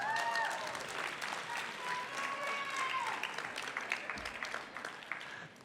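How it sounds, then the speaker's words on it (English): An audience at a civic awards ceremony applauds steadily with broad, sustained clapping, while some voices and cheers rise through the crowd noise before the clapping thins slightly toward the end. "give yourselves a round of applause"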